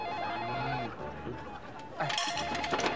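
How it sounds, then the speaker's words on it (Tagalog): A telephone rings with repeated electronic trills amid background chatter and room noise, the ringing growing louder toward the end. "We can answer the phone right now."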